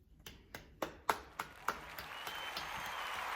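A round of applause starts as a few separate, sharp claps spaced about a third of a second apart, then swells into a quieter, blended patter of clapping.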